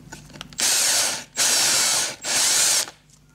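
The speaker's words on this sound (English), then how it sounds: "I purchased one of these like Kango stone and porcelain drill bits" A stone and porcelain drill bit cuts a countersink into sandstone with three sustained grinding bursts, each under a second long, separated by short pauses, close and loud with a harsh hiss.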